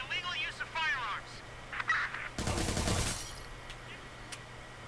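A single short, loud burst of gunfire in the video game Watch Dogs 2 cuts in after brief electronic, radio-like chatter, then fades back to quiet background.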